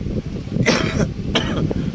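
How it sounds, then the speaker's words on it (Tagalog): Two short, breathy coughs about half a second apart, fairly close, over a low steady background rumble. "medyo inuubo lang tayo"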